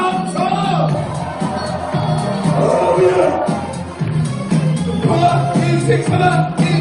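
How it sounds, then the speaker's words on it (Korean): A wedding crowd cheers and shouts loudly and continuously with clapping while a song is performed, and the voices blend into a dense, roaring babble. "박수와 함성"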